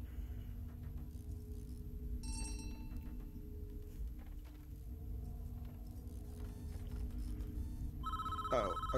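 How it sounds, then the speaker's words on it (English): A telephone rings in the prison-building video game Prison Architect, with short metallic bell-like bursts near the start and end of the clip over a steady low mechanical hum. "Okay, phone's ringing."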